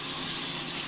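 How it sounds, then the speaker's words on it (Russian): Steady, broadband rush of running water from a tap or shower while hair dye is rinsed out of a man's hair, close and continuous for about a second, with no voices. "Давай голову уже смывать."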